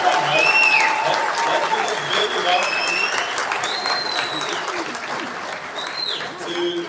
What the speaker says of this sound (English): we're going to give one massive round of applause to Validus and everything that's been done